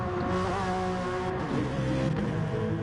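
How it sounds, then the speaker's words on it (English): A Honda race car in a racing video game screams toward the first chicane at Le Sarthe, a loud, sustained high-revving engine drone with layered harmonics and no pauses, alone without talk. "Here comes the screaming Honda down to the first chicane."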